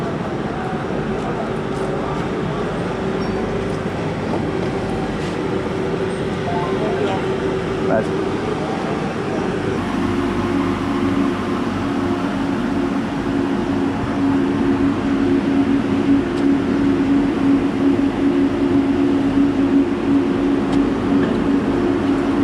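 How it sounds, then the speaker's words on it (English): A Spanish passenger train journey, with a steady interior rumble and hum that shifts slightly partway through, continuous and moderately loud, with people talking over it. "The Spanish trains are very spacious, very clean, and they're also not very expensive to travel with either."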